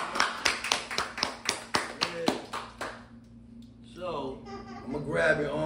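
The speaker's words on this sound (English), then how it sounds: "give me an applause" A dozen or so sharp, evenly spaced hand claps from a single person close by, slowing and fading out after about three seconds, followed by light laughter and talking.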